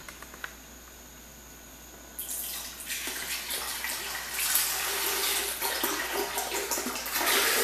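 A litre of milk pours steadily into a container for making frozen Ninho and Nutella treats, starting after a quiet moment and rising into a continuous close splashing, gurgling stream.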